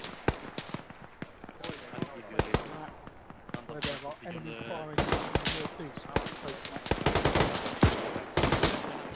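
Rapid bursts of automatic and single-shot gunfire from an Arma 3 firefight on Altis, sharp cracks piling up near and far throughout while squadmates talk over the shooting.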